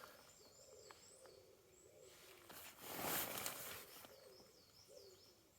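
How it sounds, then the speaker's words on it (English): Pigeons cooing in the morning outside a hoop bivvy, soft repeated low hoots in a quiet outdoor setting, with a louder rustling burst in the middle and faint bird calls above. "Apart from these fucking annoying pigeons."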